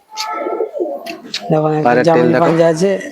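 A high-flyer pigeon coos close by in deep, throaty, rolling calls, starting with softer sounds and swelling into a sustained warbling coo.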